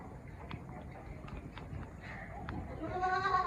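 A goat bleats in a wavering, drawn-out call near the end, preceded by soft shuffling and scattered clicks, like hooves, in a quiet outdoor setting.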